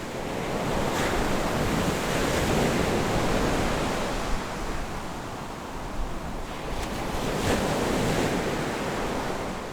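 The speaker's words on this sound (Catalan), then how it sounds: "Ja ho veieu, el mar amb tota la seva potència." Powerful sea waves crash and roar steadily with wind gusting across the microphone, forming a loud, continuous wash of surf with no voices.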